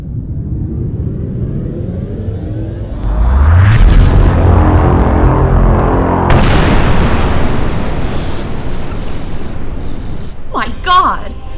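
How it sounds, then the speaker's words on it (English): A sci-fi space cannon fires and the shot explodes on a planet: a deep, loud boom swells into a long rumbling roar, while voices talk over parts of the scene. "The cannon is in position and locked onto the target."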